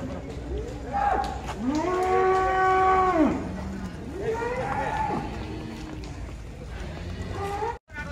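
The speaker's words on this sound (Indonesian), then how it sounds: "Sapi jumbo." A jumbo cow at the busy Boyolali cattle market in Indonesia lets out a loud, long, nearby moo, followed by a second, shorter low, with market background noise around it.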